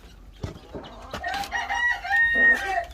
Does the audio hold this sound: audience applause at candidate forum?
no